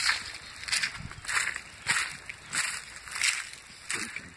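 A Keen hiking boot sloshes through water on a wilderness hike, making six or seven rhythmic splashy squelches about two-thirds of a second apart, close and fairly loud.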